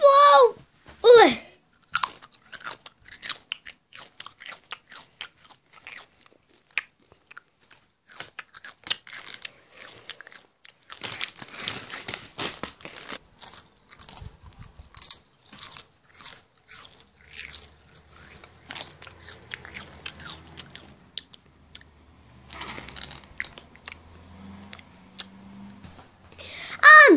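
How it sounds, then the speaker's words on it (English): Someone eats crisps close to the mic, with repeated crunchy bites and chewing in irregular bursts, along with some speech and mouth sounds. "do you know how much times Discord eats crisps a day?"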